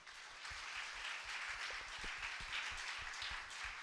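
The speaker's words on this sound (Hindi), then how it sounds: "एक बार हम जोर से ताली बजा सकते हैं" Worship congregation clapping together at a church service, a steady run of distinct claps with a few sharper hand strikes standing out.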